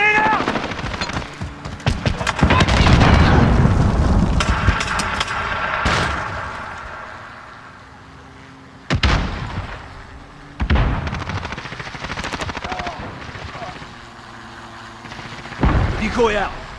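Video game combat in Call of Duty Modern Warfare: a loud grenade explosion followed by sustained machine-gun bursts and scattered gunshots, with a few later blasts and shots, while in-game voice callouts play over the action.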